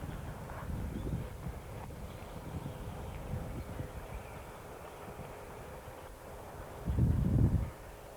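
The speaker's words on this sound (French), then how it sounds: "Un peu de vent." Wind gusting outdoors during winter ice fishing: a steady low rumble buffets the microphone, swelling in uneven gusts, with one stronger blast near the end and no talking.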